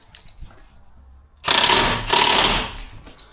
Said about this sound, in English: she's just bolting up the rest of her suspension so that we can test drive it